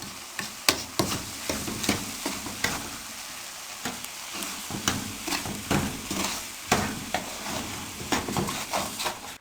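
Eggs being stirred quickly into semolina halwa with a spoon, sizzling steadily in the pan while the spoon scrapes and taps in a busy, continuous rhythm, close and moderately loud.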